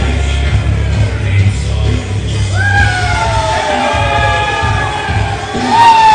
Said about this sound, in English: the people are cheering for them because they're really just scared of Ramrock